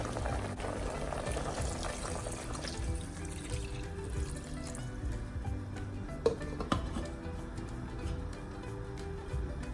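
Pork adobo simmering in a pot, a steady low bubbling and watery burble that carries on throughout, with a couple of brief clinks near the end and no voice.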